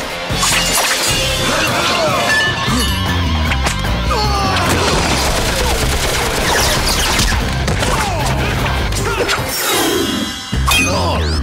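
Cartoon battle gunfire volley, a dense barrage of loud crashing and shattering blasts over busy music and effects, continuous and near, with brief shouts mixed in.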